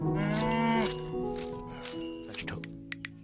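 A dairy cow in a village gives one long, loud, close moo, followed by a few faint clicks and shuffles.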